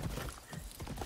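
Horse hooves clip-clopping in the video game Far Cry 6, a quick, quiet run of uneven hoof knocks lasting about a second, heard alone.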